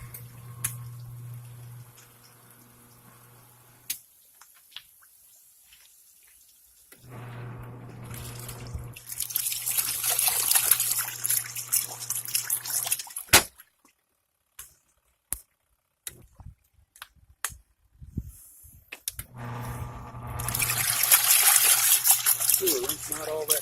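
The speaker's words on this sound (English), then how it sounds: "we're going to let this go for 3 minutes this time to rinse these clothes" A Giantex/Costway compact RV clothes washer runs a rinse cycle, a low motor hum cutting on and off between bursts of splashing, trickling water, with scattered clicks and knocks and some talking at moments.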